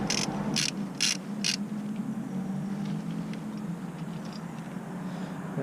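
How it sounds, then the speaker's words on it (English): A ratchet undoing the last bolt of a Volvo XC70 power steering pump: four quick metallic clicking bursts up close, then quieter faint clicks and shop background noise. "Just undoing the last bolt now, and then the power steering pump"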